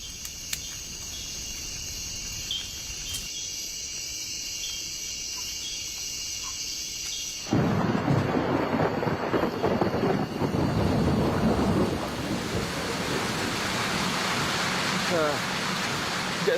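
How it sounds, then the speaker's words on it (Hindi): Heavy rain and thunder during a storm that has gone on for hours in the wild, with an insect-like chirp at first, then a sudden swell of loud broadband rain noise and rumble. "पिछले करीब 4 घंटों से बारिश हो रही है और बिजली चमक रही है, बादल गरज रहे हैं।"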